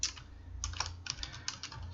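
Computer keyboard typing to replace a line of text, a quick uneven run of soft, close key clicks and taps, fairly faint with no voices.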